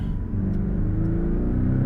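A Porsche 718 Cayman engine revs up sharply after a brief dip as it shifts down to second, a loud continuous mid-pitched growl rising as the gear drops, close and with no talking.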